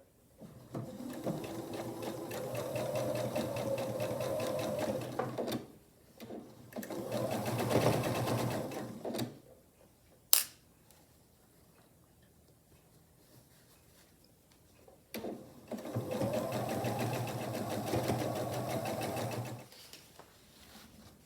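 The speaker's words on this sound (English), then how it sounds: "I'll take it to the machine 1/4 of an inch right along here." Sewing machine running in steady bursts as it stitches a quarter-inch seam along a miniature quilt border, with loud whirring runs separated by short pauses and a sharp click in between.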